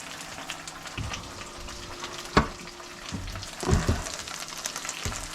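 Breakfast chorizo frying in a pan under a splatter shield: a continuous close sizzle with a few sharp clanks and scraping bursts as it is stirred, and no voices.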